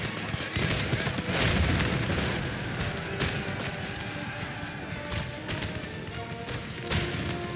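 Musket volleys on a Napoleon Total War battlefield with Spanish troops: ragged bursts of massed gunfire and booming thuds spread through a steady battle roar, some shots close and loud, others more distant.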